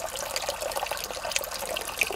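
Water bubbling and trickling at a garden pond oxygenation point fed by a small pump, a constant close burble with small splashy pops, no talking.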